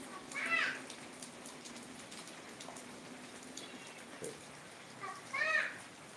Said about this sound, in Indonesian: Sedang hujan nih. Cuman hujannya nggak gede sih, nggak gede, cuman gerimis ya, gerimis.